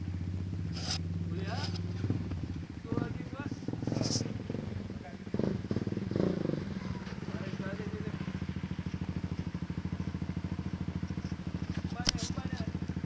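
A motorcycle engine idles and purrs steadily throughout, with a low rhythmic putter, while people talk over it.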